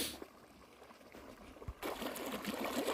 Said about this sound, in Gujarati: પાણી ફૂલ આવે છે